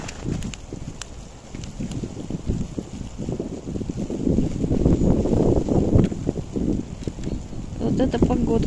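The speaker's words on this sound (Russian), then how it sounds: "Мороз. Ветер, метель такая идет." Gusty wind from a winter snowstorm in frost roars and buffets the microphone in a steady broadband rush, swelling stronger toward the end, with a voice briefly audible underneath.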